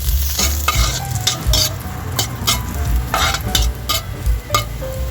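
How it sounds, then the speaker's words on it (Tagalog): Ginger frying in cooking oil in a wok-style pan, a loud close crackling sizzle with frequent scraping and clattering strokes of a utensil. "Ilalagay na tayo ng ating mantika sa ating kawali. Ilagay na natin guys yung ating luya."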